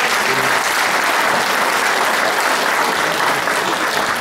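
An audience applauding at a Christmas folk song show in Abony, dense, loud, steady clapping from a large crowd that fills the whole stretch without letting up.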